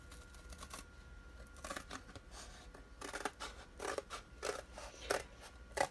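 Scissors cut material into a rectangle in a headphone repair project, giving a quiet series of close snips and crisp clicks.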